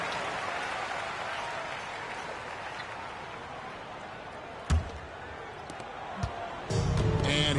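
Crowd applause and cheering rumble steadily through a basketball arena, with a sharp slam or bounce standing out midway and the noise swelling louder near the end.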